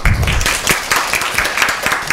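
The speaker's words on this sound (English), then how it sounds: "Give a big applause to our guests on the floor." Audience applause at a diplomatic forum on women's participation in development, a short, loud round of clapping from the floor, close and lively, rising in brief uneven surges.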